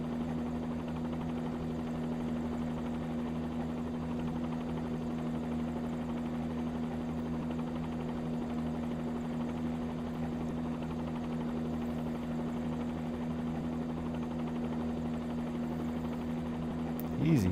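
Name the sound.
helicopter flying after takeoff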